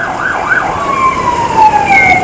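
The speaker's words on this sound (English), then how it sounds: "the Madawaska EMS. Ambulance service" An ambulance siren from a local EMS service wails loudly at close range during a festival parade, first rising and falling quickly, then sliding into a long, steady tone over street noise.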